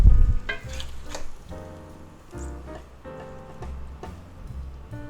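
An egg frying in butter in a cast iron skillet hisses and crackles steadily and softly after an initial louder pop, with no one talking.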